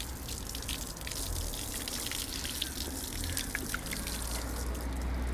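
Water streams steadily over someone's head during a hair wash in a barbershop, a continuous splashing and trickling throughout.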